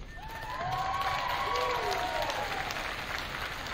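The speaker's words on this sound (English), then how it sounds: "join me in giving a round of applause to these people who have lifted us on their shoulders" A graduation audience gives a sustained round of applause, dense clapping from a crowd filling the space with faint cheering and whistles rising over it.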